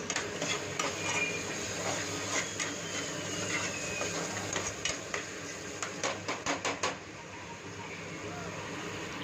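Steady sizzling and scraping of tomato rasam ingredients being sautéed in oil in a pan, with a run of quick metallic clinks from a utensil toward the end.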